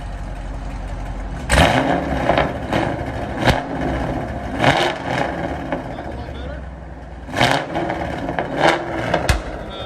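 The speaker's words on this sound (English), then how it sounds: "we'll let you guys hear the BORLA ATAK after it breaks in, how they sound like" A 2019 Chevy Camaro SS with a 6.2L V8, long tube headers and a Borla ATAK true dual exhaust revs in loud, repeated bursts over a steady rumbling idle, each blip rising sharply and then dropping back.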